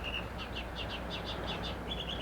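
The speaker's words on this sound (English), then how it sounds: "Never heard so many birds." Birds sing at a golf course during the 1980 U.S. Open at Baltusrol, a steady run of repeated high chirps over broad outdoor crowd and wind noise, fairly faint and distant.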